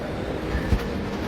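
A passenger train on a Konkan railway line rumbles steadily nearby, with a continuous rolling roar and one brief low thump partway through.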